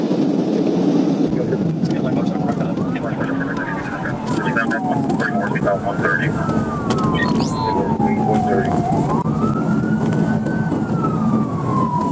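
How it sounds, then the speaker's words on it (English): A police siren wails and sweeps up and down during a trooper's motorcycle pursuit on an interstate, loud and continuous over steady road and engine noise. "The trooper quickly flips on his lights and sirens, attempting to pull over the suspect."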